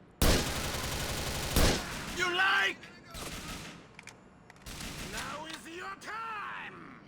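Two loud gunshots from a sniper rifle in the video game GTA 4 crack out close together, followed by quieter in-game voices and groans.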